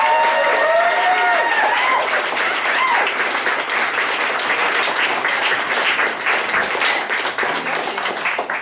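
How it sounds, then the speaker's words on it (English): Audience applause for three speakers at a talk on unions and young workers, loud dense clapping mixed with some cheering and crowd voices, holding steady across several seconds. "Can we get a round of applause for all three of our speakers?"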